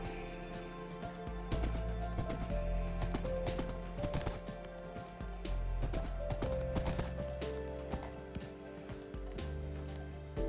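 A white horse's hooves clip-clop in a steady rhythm over sustained synthesized music tones in a video game.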